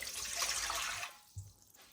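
Water, about one and a half cups, pours steadily into a cooking pot for a Balochi chicken karahi, a close splashing rush for about a second that then tapers off into a few faint trickles.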